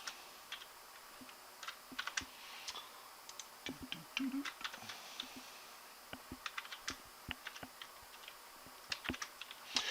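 Computer keyboard typing, likely while entering spreadsheet formulas, with irregular bursts of quick keystrokes at close range against a quiet background and no talking.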